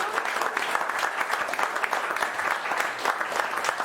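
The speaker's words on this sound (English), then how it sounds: "Round of applause for all of you being here." Audience applause at a live music and cooking show with chef Chris Cosentino, moderately loud, sustained clapping with individual claps flickering through the even crowd texture.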